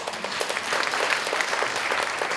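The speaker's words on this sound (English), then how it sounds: "I just want to give you a round of applause." Audience at a caregiver forum on dementia support applauds caregivers, a short burst of crowd clapping, dense and fairly loud, swelling slightly in the middle before holding steady.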